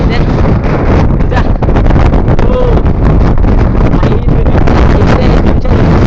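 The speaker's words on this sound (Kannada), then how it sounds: "ಕ್ಯಾಮ್ರಾ ಕೂಡ ಅಳ್ಳಾಡ್ಸೋಕ್ಕಾಗ್ತಿಲ್ಲ, ಅಷ್ಟು ಗಾಳಿ ಬೀಸ್ತಿದೆ" Strong wind buffets a microphone on Sagaru Hills near South Bangalore, a loud, continuous roaring rumble with gusty surges, and a voice talks faintly beneath it.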